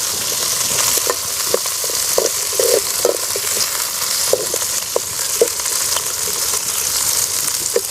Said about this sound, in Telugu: ఇది ఆనియన్స్ వేస్తున్నా ఓకే ఇప్పుడు కాలని ఇక మంచిగా మెల్లగా వీటికి నూనె పట్టిస్తే మొత్తం కలిసి మంచిగా కాలుతాయి